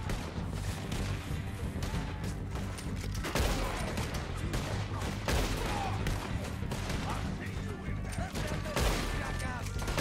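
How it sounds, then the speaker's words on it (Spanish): Loud bursts of gunfire in the video game Red Dead Redemption 2 crackle over a dense, busy soundscape with a low rumbling hum, shots scattered throughout, while someone talks intermittently in Spanish. "Ese disparo me ha pasado muy cerca."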